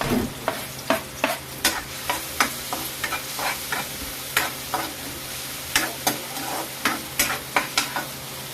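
Garlic and onion sautéing in a pan for egg adobo. Sharp utensil scrapes repeat about twice a second over a continuous close sizzle, with no voices.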